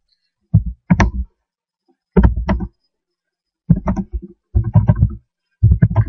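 Computer keyboard and mouse clicks come close and crisp in five short bursts of rapid taps separated by silent gaps.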